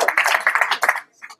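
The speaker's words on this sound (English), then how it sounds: "Round of applause." An audience at a prize-giving for a juicer-idea contest claps in a brief, dense burst that fades out after about a second, followed by a short scattered patter of a few more claps.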